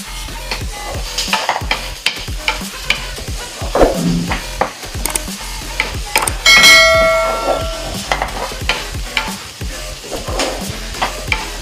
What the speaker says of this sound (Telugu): ఇప్పుడు ఇవి కొంచెం ట్రాన్స్పరెంట్ అయ్యేంత వరకు మనం వేయించాలి, మాడకుండా చూసుకోవాలి